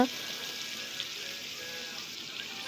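Vegetables poured into hot spice masala in a pan, giving a steady, moderately loud sizzle and frying hiss that holds evenly throughout with no voices.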